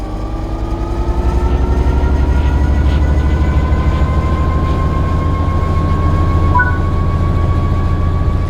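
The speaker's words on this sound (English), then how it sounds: "Apply some throttle to get the train moving." A train in the Train Sim World 3 video game pulls away under throttle, a loud heavy engine drone with rising whining tones as it picks up speed and a steady rolling rumble beneath.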